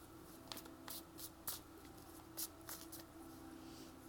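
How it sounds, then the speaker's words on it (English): Tarot cards are shuffled by hand in a quiet room, a run of soft riffling bursts and papery swishes at an uneven rhythm, close and fairly quiet with no speech. "I usually like to shuffle until something pops out"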